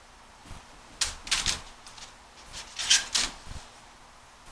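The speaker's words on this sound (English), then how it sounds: "So let me unwrap this here." Packaging for a grow light shroud being unwrapped, with several bursts of crinkling and rustling separated by short pauses, close and moderately loud.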